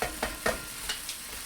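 Cabbage and chicken sizzle in a hot pan as a utensil scrapes and stirs them, with several short rhythmic strokes over a steady low frying hiss, close up.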